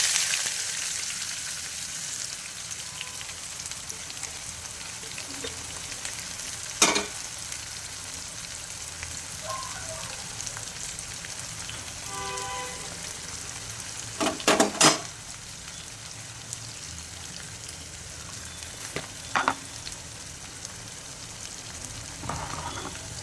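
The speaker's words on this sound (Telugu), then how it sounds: "ఆనియన్స్ గోల్డెన్ కలర్లో వచ్చేంత వరకు ఇది ఆయిల్లో ఫ్రై చేసుకోవాలండి" Sliced onions with bay leaves and black pepper frying in oil for mutton biryani make a soft, steady sizzle throughout. Occasional spoon-on-pan scrapes and clinks break through at moderate closeness, with no talking.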